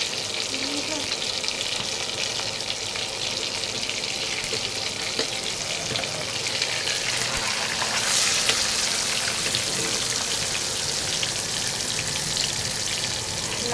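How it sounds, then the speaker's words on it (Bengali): Fish fries in a pan in a home kitchen, giving a loud, steady sizzle and spatter that runs unbroken from start to finish. "মাছ ভাজা হচ্ছে"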